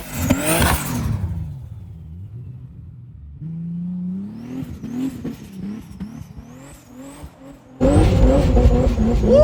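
A 1300 HP Nissan Patrol on a ski slope gives a loud revving burst, settles into a lower rising drone with brief whirs and squeals, then roars back hard and close at the end.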